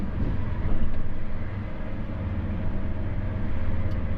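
A steady low rumble fills the clip, the deep droning hum of a train interior, continuous and even with no voices.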